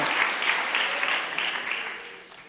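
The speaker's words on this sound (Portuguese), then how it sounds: "Você pode aplaudir ao Senhor com confiança?" Church congregation applauding, a steady wash of many hands clapping that holds evenly and then tapers off toward the end, with no talk over it.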